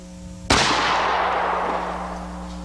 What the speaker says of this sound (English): Shoot the target on the left at 10 yards and at 15 yards from where I'm standing.